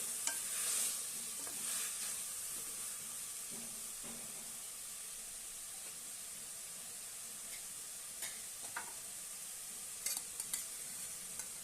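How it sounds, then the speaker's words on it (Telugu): Sweet corn kernels are stirred into a frying masala in a pan, giving a soft, steady sizzle with a few scraping strokes of the spoon against the pan. "అలా ఒకసారి మసాలాలో కలుపుకోవాలి"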